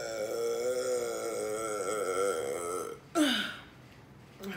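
One person lets out a long, drawn-out, loud burp at close range while eating crabs at a seafood meal, then a short second burp follows and a third brief one comes at the end.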